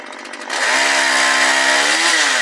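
A homemade firewood cutting machine starts up and saws into wood, a loud continuous motorized whine with a rising pitch after a brief quieter start, close by with no talking.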